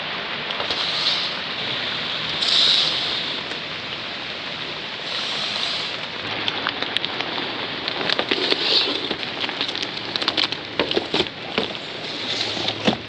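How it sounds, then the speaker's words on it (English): Steady rain patters through a stormy outdoor scene by greenhouses, a dense, continuous hiss with scattered louder drips and taps surging now and then, no voices over it. "it is still raining"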